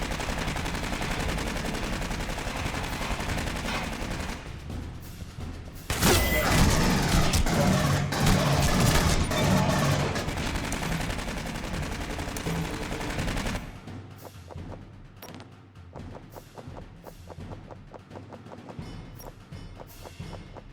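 Automatic turret gunfire in the video game Aliens: Colonial Marines, with dense, loud bursts of rapid shots that peak mid-clip, then thinner scattered shots and thumps. A voice speaks briefly over the firing.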